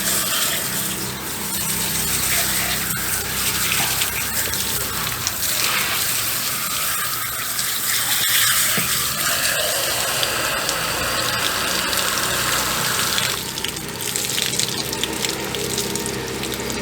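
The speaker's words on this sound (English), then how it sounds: "turn the water on?" Tap water gushes steadily into a sink while a freshly processed Cornish Rock chicken is rinsed, a continuous close splashing rush that shifts in tone as the stream hits the bird and basin.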